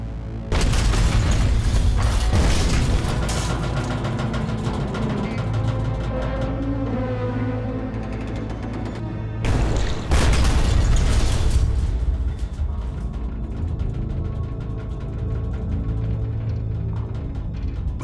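Heavy explosions boom around a British submarine in World War II, a loud sustained barrage of deep blasts and rumbling with a sharp burst near the middle, then continuing thunderous rolls.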